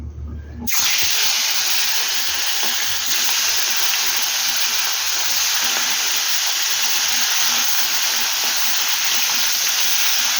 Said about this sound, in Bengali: তো তেলটা গরম হয়ে গেছে, এবার আমি মাছটা দিয়ে দেবো